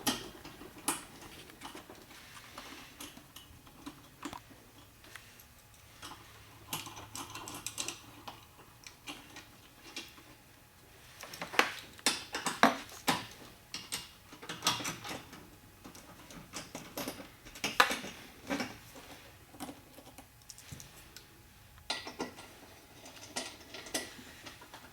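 Ten-millimetre bolts are worked loose on a Polaris Slingshot's air intake, giving faint, scattered ticks and clicks in irregular bursts against a quiet background, with no voices.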